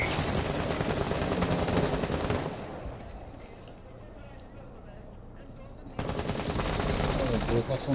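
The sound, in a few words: gunfire in Rainbow Six Siege video game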